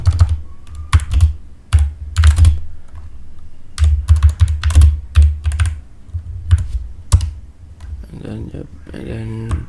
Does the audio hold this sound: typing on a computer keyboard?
yes